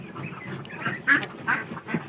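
Several farm ducks quack in short bursts at close range, some of them runner ducks, with a steady low murmur of other ducks behind the calls.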